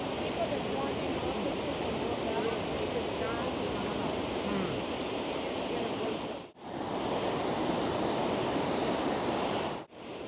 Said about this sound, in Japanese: ここは静かだったナイアガラ川の水が急流に変わる場所で